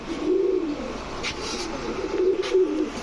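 Giribaz, racer and Sirazi pigeons cooing nearby, two low throaty coo phrases over a steady background hum, with no one talking.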